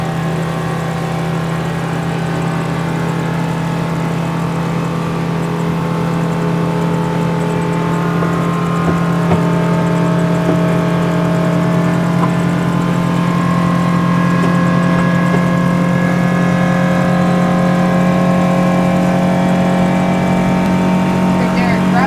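A shrimping boat's engine revving at full throttle, a loud, close, steady roar that builds slightly and holds, with voices talking over it.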